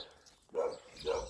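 Dogs bark at Duncliffe Woods on Duncliffe Hill, giving two separate barks about half a second apart at moderate distance over a quiet outdoor background.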